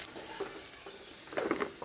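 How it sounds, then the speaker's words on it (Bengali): Cashews and raisins, soaked beforehand in water, sizzle softly in a couple of spoonfuls of ghee, with light stirring scrapes and faint crackles that grow a little louder near the end of the short stretch. "2 চামচ পরিমাণে ঘি দিয়ে এবার খুব ভালো করে একটু ভেজে নিচ্ছি"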